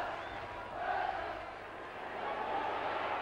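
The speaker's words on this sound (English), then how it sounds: "Crowd's enthusiasm has come back in a big wave." Football crowd at a match roars and cheers in broad, swelling waves, rising around the first second and again near the end, a dense distant mass of voices without clear words.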